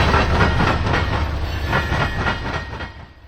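A CSX coal train rolls through a junction on the Garrett and Barr Subdivisions in Northwest Indiana, loud and close, with rhythmic clickety-clack of wheels over rail joints before fading slightly at the end.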